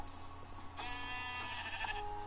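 A Minecraft sheep gives a single drawn-out bleat, wavering and fairly clear over faint game ambience, lasting about a second, with no talk.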